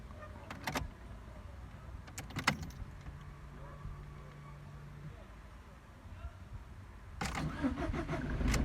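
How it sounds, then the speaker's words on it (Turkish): A Fiat Linea driving-school car is started: key and cabin clicks, then a brief starter crank and a steady low idle hum, with further clatter near the end; close and moderate in level, no talk. "aracımızı çalıştırdık"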